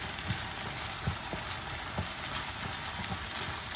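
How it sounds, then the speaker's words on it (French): Onions cooking with already-cooked minced meat in a pan give a steady, low sizzle with a soft crackle throughout, fairly quiet and even, with no voices over it. "On laisse cuire un peu les oignons, parce que la viande hachée, elle est déjà cuite."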